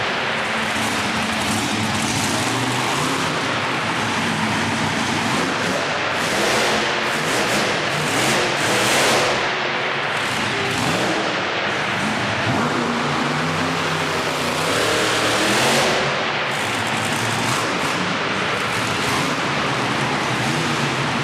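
The Lucas Oil Stabilizer monster truck's engine roars loud and steady at a Monster Nationals event in Corbin, Kentucky, in 2012, swelling in a few surges of revving over a continuous wash of noise.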